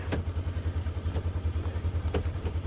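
A vehicle engine labours in low gear outdoors in the southwest Texas wind, a close, steady low rumble pulsing evenly with a few light thumps and clatters and no talking.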